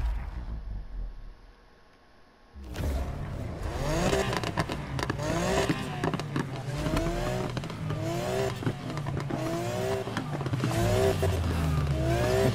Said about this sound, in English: I hear that little squeal